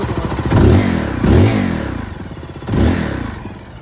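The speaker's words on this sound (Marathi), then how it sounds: "फायरिंग घेऊन दाखवतो तुम्हाला." A Zontes 350R motorcycle with a twin-cylinder engine is revved up close in three loud throttle blips. Each rises sharply and falls back to a throbbing idle, with no talking.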